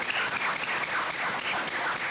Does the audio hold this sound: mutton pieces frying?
no